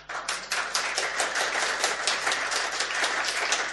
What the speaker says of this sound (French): on peut remercier et même applaudir Jacques Dubocher